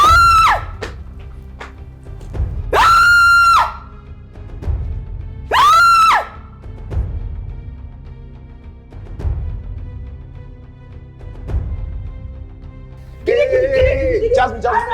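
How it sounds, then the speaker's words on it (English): A woman lets out several loud, piercing screams, some long and some short, with bursts of agitated speech between them. "Why is she screaming? She's still screaming"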